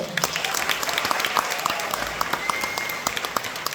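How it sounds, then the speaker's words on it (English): Audience applause for a performer, a short burst of crowd clapping with distinct individual claps standing out, fairly close, with faint voices underneath. "please give a round of applause for Andy Waddell"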